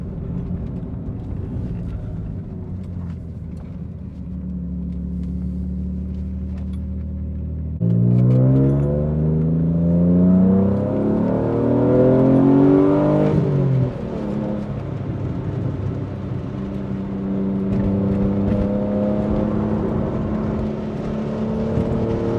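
An Alfa Romeo GTV drives along a bumpy country road, its engine droning steadily inside the cabin and swelling as it revs and climbs in pitch partway through, then settling back.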